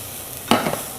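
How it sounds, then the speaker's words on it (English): Onion and garlic drop into hot oil in a pan, giving a sudden close burst of sizzling that settles into a softer crackle. "we go in with our onion and our garlic straight away. That should be sizzling."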